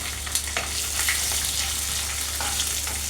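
Cumin seeds, lentils and dried red chillies frying in hot oil for a ridge gourd stir-fry, giving a steady, dense sizzle that stays loud and even throughout with faint crackles and no voice.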